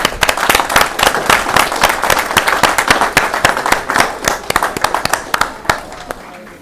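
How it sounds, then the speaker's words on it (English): Applause at a school board of education meeting, with distinct sharp claps in a fairly sparse, uneven rhythm that thins out toward the end. Scattered voices murmur underneath. "Let's give them another round of applause for everyone."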